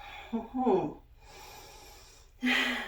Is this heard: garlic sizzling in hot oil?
no